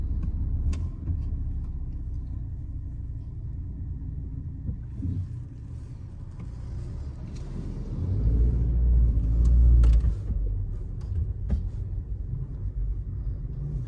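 A car's low engine rumble runs steadily throughout as it pulls out and turns into traffic, swelling louder for a couple of seconds midway before settling back to a steady drone.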